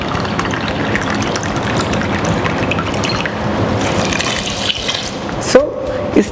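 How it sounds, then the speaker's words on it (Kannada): Water is poured from a cup into a cooking pot holding moong pulao mix, two cups of water for one cup of rice; a steady, continuous splashing pour runs close by for several seconds before a brief clink near the end. "ವಾಟರನ್ನು ಹಾಕ್ತಾಯಿದ್ದೀನಿ."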